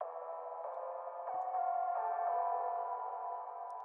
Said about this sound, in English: This is just a little LFO pluck.